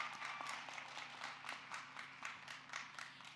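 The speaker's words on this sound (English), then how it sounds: "Give yourselves a round of applause." Faint, distant applause from a university commencement ceremony audience, a soft continuous patter of many hands clapping with no voices over it.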